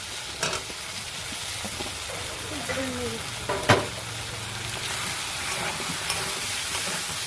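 A spoon scrapes and stirs potatoes into a frying masala in a pan, with soft intermittent clinks and scrapes over a low sizzle, fairly quiet and close.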